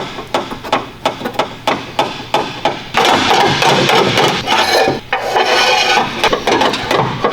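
A hammer taps out a dented aluminum hood on a crashed Honda Odyssey with a steady series of sharp metallic strikes, which then blur into a dense, continuous rapid clatter of close, loud blows.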